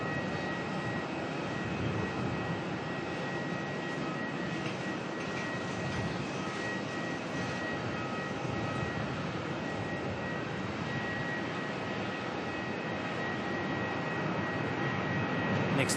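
Velocity jet rolling out for takeoff at Melbourne Airport, a steady engine rumble and whine holding at even level throughout, moderately near, with no voices.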